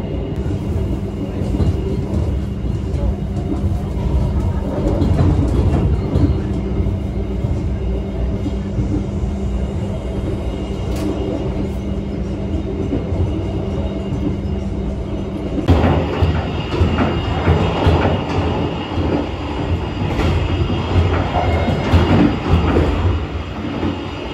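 A Turangga executive-class passenger train between Surabaya and Jombang rumbles along the tracks with a steady clatter and hum heard from inside, growing noisier partway through, with faint voices at times.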